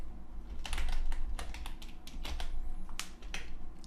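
Fingers type on a computer keyboard while entering header text into a Dreamweaver table cell, giving a quick run of close, crisp key clicks in an irregular rhythm over a low steady hum.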